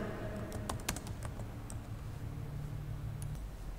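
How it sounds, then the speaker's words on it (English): A computer keyboard clatters as someone types quickly in a short burst, then slows to a few scattered keystrokes over a steady background hum, with no voices. "Here you can start typing the program."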